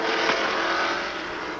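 Scott Harrington's IndyCar race car at Phoenix, a loud high-pitched engine roar that is strong at first and fades a little as the car moves away, with no talk over it.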